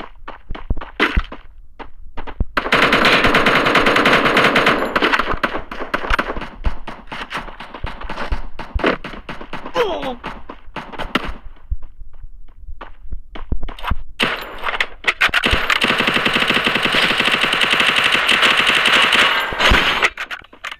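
Automatic gunfire from a Free Fire Max solo-versus-squad match, long loud bursts of rapid shots with short gaps, thuds and clanks between them, and a second sustained barrage near the end.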